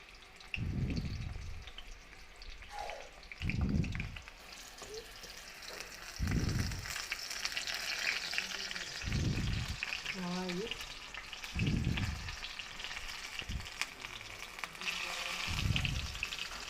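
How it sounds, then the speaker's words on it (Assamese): Bitter gourd slices sizzle as they fry in a pan, with a steady crackle of oil. Heavier stirring bursts come roughly every two to three seconds and run through the whole clip. "মই পলটাই দিলোঁ ভাজিখিনি"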